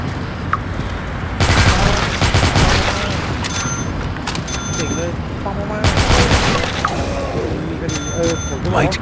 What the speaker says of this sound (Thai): ผมแค่หันเป้าเนี่ยไปที่ซอมบี้อ่ะมันก็ยิงเลย